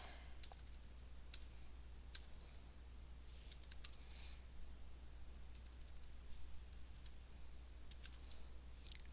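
Typing on a computer keyboard while writing code, faint scattered key clicks in short bursts over a quiet steady hiss, distant and soft.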